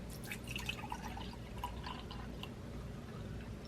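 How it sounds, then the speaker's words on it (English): Milk trickles into a small glass while Dalgona coffee is prepared, a quiet, steady pour with faint drips and splashes over a low background hum, no voices. "I'm just going to pour some milk in it"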